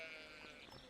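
A single short sheep bleat from the farming video game Stardew Valley, faint and brief with a wavering tone.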